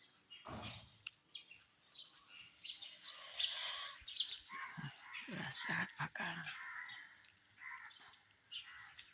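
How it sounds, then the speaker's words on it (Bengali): Birds chirp in the early morning on a quiet, empty street, mixed with a nearby dog barking and whimpering while a person talks close by. "পাখিগুলো কি সুন্দর খেলা করছে।"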